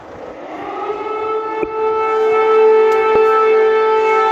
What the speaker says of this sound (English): An air raid siren over Kyiv.